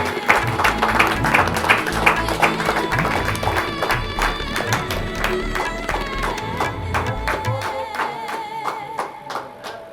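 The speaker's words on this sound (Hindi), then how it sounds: "जोरदार तालियां बजा दो इन बच्चों के लिए।" Guests at a Hindu wedding ceremony in Delhi clap and applaud loudly and steadily for the couple, a dense sustained burst of hand claps over background music that slowly tapers off.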